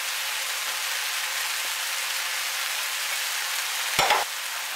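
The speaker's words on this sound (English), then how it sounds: "Now we just want to stir fry it in until they're just tender, until they're just going soft." Celery and capsicum stir-fry in a hot pan with a steady, even sizzle, and a single clank of a utensil against the pan near the end, with no voices.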